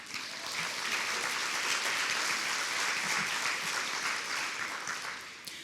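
Sustained applause from the audience at the San Angelo, Texas 2021 State of the City address, a dense, steady wash of clapping that holds evenly for several seconds before easing off slightly at the end.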